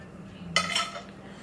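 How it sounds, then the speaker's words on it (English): A chunk of sausage is tossed onto a sheet pan, making a single short clatter that is close and moderately loud, then fades quickly against a quiet room. "Now, next comes the sausage. And I'm just going to toss it on."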